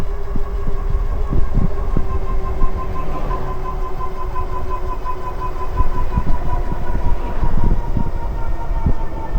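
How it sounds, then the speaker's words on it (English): Loud, steady electric motor whine from a Hynox Trooper X fat tire e-bike climbing under load, with a droning tone, accompanied by rumbling and rattling bumps, continuous throughout. "when we start climbing, you can hear that motor"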